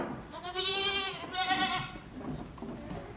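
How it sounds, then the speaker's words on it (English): Goats, including half Boer, half Spanish crosses, bleat in a sheltered box during a South Dakota blizzard, two long wavering bleats close by followed by quieter rustling and faint bleats. "we got goats down in the box there keeping warm."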